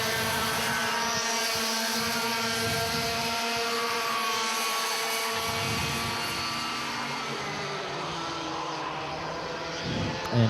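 Kart engines drone loudly and steadily during a junior clubman class kart race at the City of Adelaide Kart Titles, a continuous high-pitched whine that swells under acceleration with no pauses.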